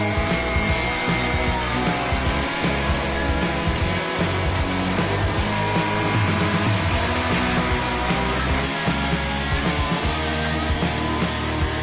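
A power tool cuts through the underside of an abandoned airplane's wing, a loud continuous grinding whine with rough scraping texture that holds steady throughout, close and dense with no talking.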